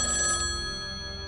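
A telephone rings in a police emergency call center in Seoul, a steady electronic ringing tone heard clearly and alone, fading slightly over a short burst.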